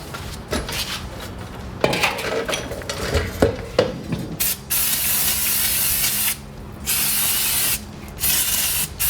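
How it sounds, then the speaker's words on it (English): Aerosol brake cleaner sprayed into the steering knuckle of a Toyota Tacoma during a front CV axle and hub replacement: several loud, sustained hissing bursts with brief gaps, mixed with clinking of metal parts early on, close to the mic. "We're gonna clean this out with a rag and some brake cleaner."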